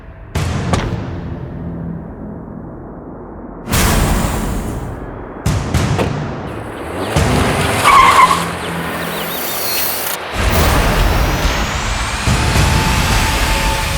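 A car pulling away in a hurry. Loud, close engine roar and tire noise come in abrupt bursts separated by cuts, with no talking.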